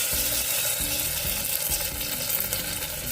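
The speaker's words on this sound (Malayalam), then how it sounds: "ഇത് കടു വറുത്താലോ." Mustard seeds popping and sputtering in hot oil for a Kerala-style breadfruit masala curry, a bright continuous sizzle with scattered crackles throughout, close and steady, no talking.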